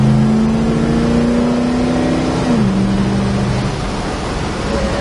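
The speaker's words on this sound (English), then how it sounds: "It's a nice running car. Pulls well, drives well." A 1972 Plymouth Duster's engine drones loud and close from inside the car as it accelerates, its pitch holding steady, then dropping at a gear change and settling into a steady cruising hum.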